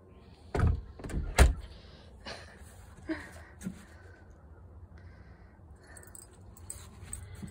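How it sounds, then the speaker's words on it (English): A house door is pushed shut with two sharp close thuds early on, followed by softer shuffling and small knocks in a quiet room. "I'll close the door then."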